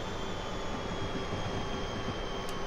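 A North Jersey Coast Line train runs in the video game Train Simulator 2017, a steady loud rumble of wheels and motors with continuous rolling noise and a brief squeal near the end.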